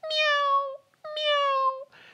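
A person imitates a cat, giving two drawn-out, high meows in a row, close and clear, followed by a brief breathy noise.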